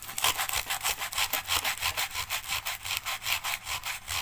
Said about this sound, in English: And with the 120, just sand this back.